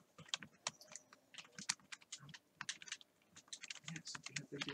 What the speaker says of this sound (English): Type it in then.